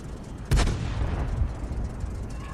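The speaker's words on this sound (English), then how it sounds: "Reloading, and fires another round in." A tank cannon firing in the World of Tanks video game, a single loud booming shot with a deep rumbling tail over steady engine noise.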